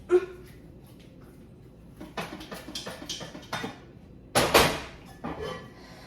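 A heavy pot rattles and knocks in several short irregular bursts, close by, with one louder clattering shake near the end and quiet gaps between.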